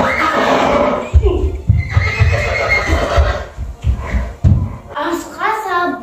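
A loud whinny opens, then hoofbeats clip-clop in an uneven rhythm and a second shrill neigh rings out near the end, all as a sound effect in a Kazakh children's tale about animals racing for the new year.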